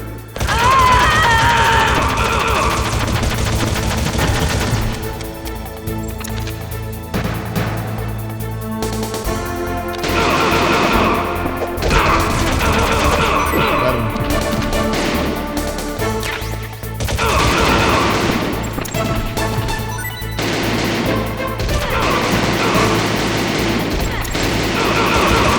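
Gunfire, crashes and impacts ring out in Metal Gear Solid gameplay, with loud repeated bursts and smashes over a constant backdrop of game music and effects. There is no clear talk.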